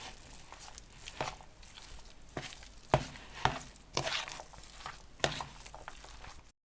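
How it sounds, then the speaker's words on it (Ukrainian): Minced meat being mixed thoroughly by hand with salt and pepper for Ukrainian buckwheat patties: soft, close squelching and slapping pats at an uneven rhythm, with no talking. "Отак ретельно я фарш перемішала"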